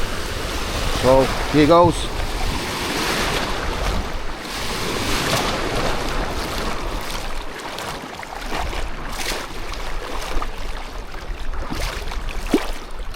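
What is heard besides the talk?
sea waves at a white sand beach, walking into the water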